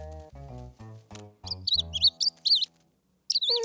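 A baby bird in a French children's cartoon chirps in a quick run of high, wavering tweets, then goes quiet and gives one last short chirp, following a few low, humming tones.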